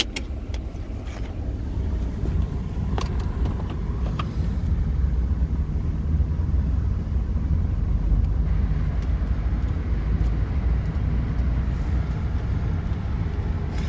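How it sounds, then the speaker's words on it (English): Car interior while driving through rush hour traffic on a cold, snowy day in Alaska: a steady, loud low engine and road rumble runs throughout with no clear breaks. "Rush hour traffic out here."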